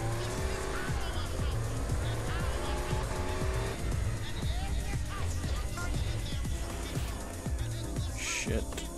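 A car in GTA San Andreas driving over a grassy dirt road, with loud continuous engine roar, revving and repeated tire squeals and skids, all close and dense throughout.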